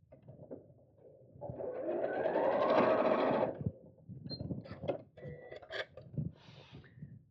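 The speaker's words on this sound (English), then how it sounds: "we'll sew straight across" A short burst of sewing machine stitching straight across fabric pieces for a purse organiser craft bag, a moderate whir lasting about two seconds, followed by quieter rustling and handling sounds.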